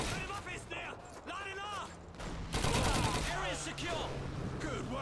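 Sustained gunfire in Call of Duty 2 plays throughout as rattling rifle and machine-gun bursts with mechanical clatter. Voices shout and call out loudly over the shooting.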